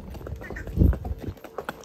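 A horse's hooves clip-clop on the trail at the Matheran hill station, a short run of close, uneven thuds over light background noise.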